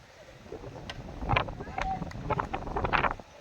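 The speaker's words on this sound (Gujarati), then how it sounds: "કારણ કે પવન છે બહુ એ થોડોક નડતરૂપ થાય છે" Strong wind gusts buffet the microphone outdoors at a village cricket game, with low rumbling bursts swelling and easing throughout and faint voices in the background.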